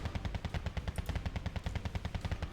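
Rapid machine gun fire in the video game Wargame Red Dragon, a steady rattling stream of evenly spaced shots, loud and continuous throughout.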